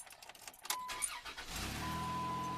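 A 2004 Dodge Caravan engine starts up: a few clicks and a brief cranking whir, then the engine catches and settles into a steady, even idle heard close by, with no talk.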